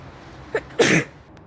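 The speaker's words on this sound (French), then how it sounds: "Pardon j'ai éternué." A single close, loud human sneeze with a short sharp intake just before it, in an otherwise quiet setting.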